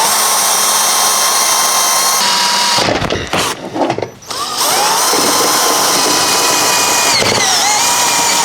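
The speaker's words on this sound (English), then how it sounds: "So let's get a hole drilled in here." A power drill bores a hole into a plastic golf trolley part, loud and steady, dipping briefly as the bit presses through midway, then whining on alone without talk.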